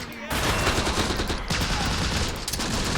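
Heavy, sustained gunfire in a tactical war game fills a desert battle against an Italian stronghold, a loud continuous fusillade of overlapping rapid shots with machine-gun bursts.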